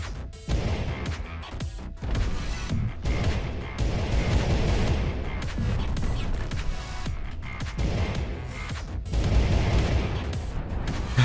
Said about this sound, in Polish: Te, te bomby jakby co trochę wybuchają.